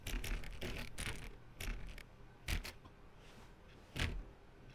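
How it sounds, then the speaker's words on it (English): Locked office doors being tried in The Stanley Parable, each attempt giving a short rattling clunk of the handle, several spaced knocks in a row, fairly close and moderately loud. "Left clicking does try the doors at the very least."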